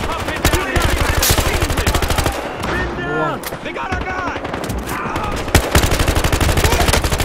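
Rapid automatic gunfire from the shooter game Battlefield Hardline, loud, dense and nearly continuous, with brief pauses and scattered single shots.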